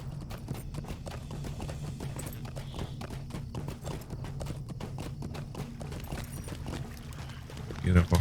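Horse hooves clip-clop at a steady walking rhythm in Lord of the Rings Online, quiet and continuous under a player's voice talking, with a brief louder thump at the end.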